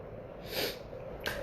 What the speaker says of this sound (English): Excuse my sniffle.